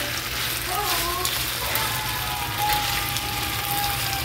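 Beef fries in a pan for a stew, giving a steady, close sizzle throughout with faint mechanical hum underneath.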